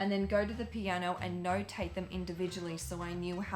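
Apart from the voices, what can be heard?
No everyday noise stands out behind the speech.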